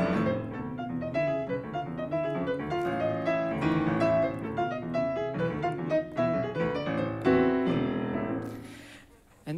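A harp plays an ornamented melodic pattern with plucked, ringing notes decorating a fifth in the right hand, clear and close, fading at the end.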